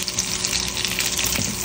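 A pork chop fries in a pan, a close, continuous crackling sizzle of hot oil with scattered pops and no talking.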